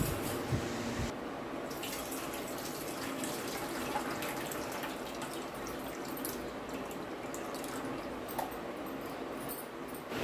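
Water poured into a pot of soaked tamarind while making Telangana-style onion pacchi pulusu, a steady faint trickle and splash running the whole time with a few small drips, close by and with no voices.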